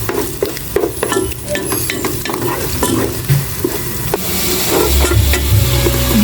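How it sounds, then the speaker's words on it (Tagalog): Mushrooms stirred and sautéed in a pan already holding ham, garlic and onion, a steady close sizzle under repeated scraping strokes of a spatula, with no one talking. "Ginigisa muna namin yung mushroom"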